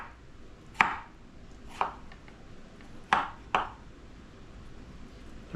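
A knife chops nopales cactus pads on a board, four distinct sharp chops in an uneven rhythm, close and fairly quiet, with no talk.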